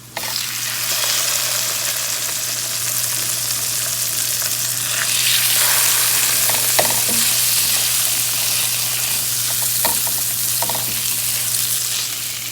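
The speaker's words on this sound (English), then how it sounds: "Now I'm gonna wait until my garlic starts forming like a nice brown caramelized color" Garlic fries in a hot pan, giving a loud, steady sizzle that keeps up the whole time. A low hum sits underneath, and a few light clinks of a utensil sound now and then.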